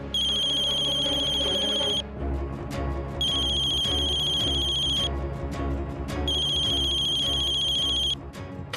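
A phone ringtone rings loudly in three long bursts separated by short pauses, with a low background hum underneath.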